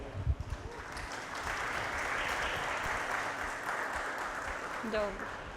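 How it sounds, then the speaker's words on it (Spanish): A conference audience gives welcoming applause at a talk on pentesting and end-to-end testing, a sustained wash of many hands clapping, with a brief voice near the end. "por favor démosle un fuerte aplauso de bienvenida a Andrea"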